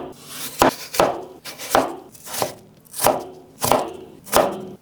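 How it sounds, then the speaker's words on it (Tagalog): Knife slicing potatoes lengthwise on a cutting board, close up: six or seven firm, evenly paced strokes, each a crisp chop with a short scraping tail, and no voices. "Hiniwa ko lang ito ng pahaba."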